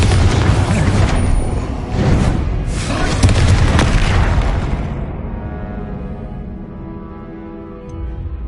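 A Bombarda spell blast in the Hogwarts Legacy video game: a loud booming explosion with several heavy hits in the first seconds, then a rumbling tail that slowly fades.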